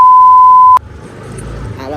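A phone rings with a single steady electronic tone that holds loud for under a second, then cuts off abruptly, leaving quiet room noise and faint movement behind.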